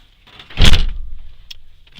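A canary yellow 1985 Pontiac Trans Am WS6 with worn door hinges: a single solid door thunk close by, followed by a short fading rattle and faint clicks, with no talking.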